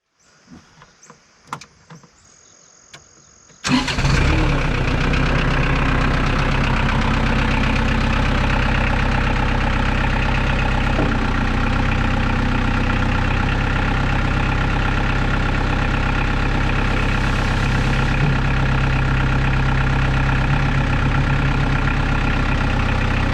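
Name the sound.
tractor engine starting and idling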